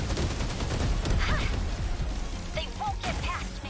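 Pulse laser fire in the video game 13 Sentinels forms a dense, continuous rattle of rapid shots under layered game sound effects, with a few brief higher electronic chirps.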